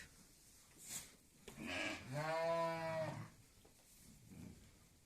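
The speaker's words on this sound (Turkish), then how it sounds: "Gebe olan koyunlarımızı da getirdik." A single close, drawn-out bleat from a pregnant sheep lasting about a second, in an otherwise quiet village setting with faint background noise.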